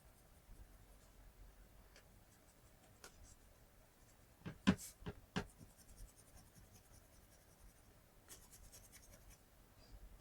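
Water soluble graphite pencil shading on sketchbook paper gives faint, close scratchy strokes, with a brief cluster of sharper scrapes midway amid quiet room tone.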